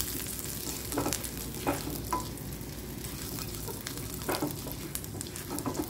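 Garlic slices and cumin seeds fry in hot oil with a steady sizzle, broken by occasional scraping stirs of a utensil in the pan, close and moderately quiet.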